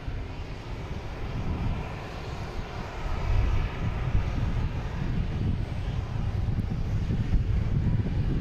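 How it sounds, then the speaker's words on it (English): A United Airlines Boeing 737 MAX 9 arriving from Houston roars steadily on approach to land at Boston Logan, a loud, sustained engine rumble that swells slightly midway, with some wind noise and no talk. "Here's United Airlines coming in from Houston. 737 MAX 9."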